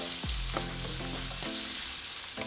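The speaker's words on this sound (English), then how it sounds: "So we're just going to cook our shrimp until they turn into a beautiful salmon color." Shrimp seasoned with garlic salt fry in a pan with a soft, steady sizzle and a few utensil knocks and scrapes nearby, no voices.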